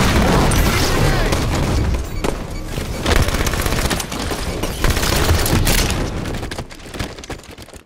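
Dense, loud gunfire and repeated rocket blasts from a Halo 5 multiplayer match on the map White Cell, with booms and rapid shots crowding the whole stretch and a brief dip near the end.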